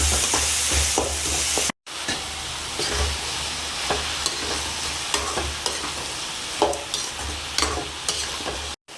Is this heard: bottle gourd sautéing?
yes